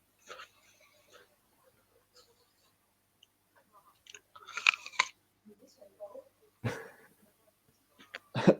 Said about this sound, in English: Try and crunch the apple as someone's making a collision